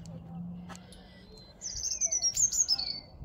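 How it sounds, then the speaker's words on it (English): A small bird chirps in a tree at an abandoned historic landmark, a quick run of high, thin sliding notes near the end after a quieter stretch of outdoor ambience. "Little birdie chirping in that tree."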